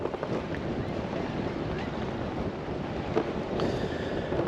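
Strong 20-knot wind blows steadily across the microphone on a sailboat near Sandy Island, with water rushing under the hull; a continuous loud broadband roar with gusty swells and no voices.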